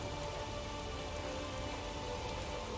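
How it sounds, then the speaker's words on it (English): Rain falls in The Witcher 3 video game, a constant soft hiss of drops on surfaces, even and unbroken, fairly quiet with no voices over it. "Looks like rain."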